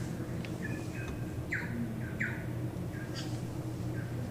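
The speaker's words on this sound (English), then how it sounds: "That's a bird I've never heard." Forest birds in Tasman, New Zealand, give a few short, clear chirps and whistled calls at a moderate distance over a steady low ambient hum, with no talking.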